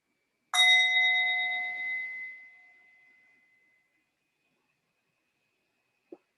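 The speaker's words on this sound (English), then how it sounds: "we will begin with the sound of the bell." A meditation bell is struck once at the start of a guided meditation, giving a clear, bright ring that decays slowly over a few seconds into near silence, with a faint soft tap right at the end.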